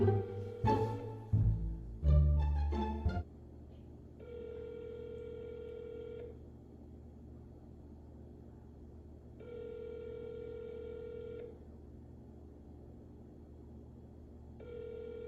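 A phone call rings out: after a few button taps and clicks, a repeated electronic ringback tone sounds in steady two-second bursts separated by silent gaps, clear and close.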